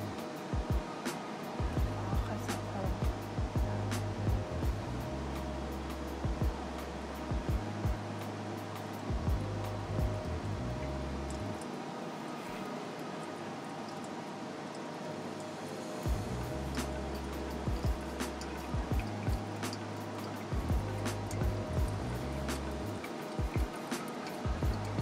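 Hot water poured over ground coffee in a home pour-over brewer, a steady, soft trickling wash that runs throughout over a low background hum.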